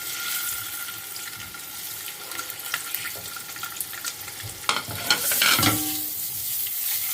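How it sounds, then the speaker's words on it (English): Boiled eggs frying in a little hot oil with a pinch of turmeric, a soft steady sizzle with faint stirring clicks and scrapes, growing briefly louder near the end. "heated a little bit of oil and added a little pinch of turmeric powder, in which I am going to be adding in eggs, the boiled eggs"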